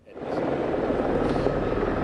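A news helicopter flies overhead during coverage of a police shooting scene in Lancaster, giving a steady, loud rotor and engine roar that swells in within the first moment and holds unbroken throughout.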